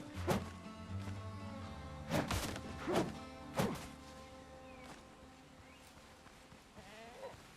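Goats in the video game Windrose, with several sharp bleats and hard whacking hits in a cluster, set against a tonal game music bed and quieter sounds later on.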